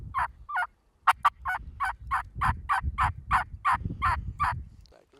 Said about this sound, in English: I hear those jakes yelping.